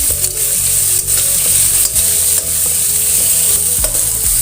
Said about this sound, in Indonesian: Tumis-tumis terlebih dahulu.